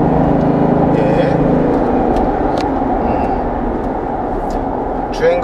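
A Kia Mohave The Master five-seat SUV in sport mode gives a steady engine drone mixed with road rumble from inside the cabin while driving, with a voice partly audible over it.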